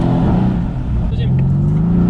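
A Mercedes C63 engine pulling hard under acceleration from inside the well-insulated cabin, a steady low rising drone, with people talking over it.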